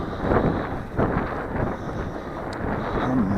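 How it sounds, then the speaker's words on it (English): Strong gusting wind buffets the microphone during a maiden flight of an Alien Aircraft Blinker RC plane, a loud, rumbling roar that swells and dips throughout with no talking. "I never fly with this much wind."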